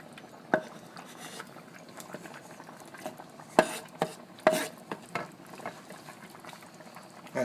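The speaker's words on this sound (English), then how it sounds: "So we're going to stir those in." Peas and tomatoes stirred into a thick, bubbling quinoa stew, with a steady low simmer broken by irregular spoon scrapes and clacks against the pot, close and moderately loud.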